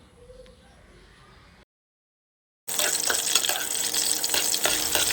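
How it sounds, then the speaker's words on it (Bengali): Green chilies frying in oil in a wok, a loud, steady sizzle that starts after a brief silence and crackles on continuously to the end. "কাঁচামরিচকে সুন্দর করে আমি ভেজে নিব, হালকা একটু ভাজা ভাজা করব,"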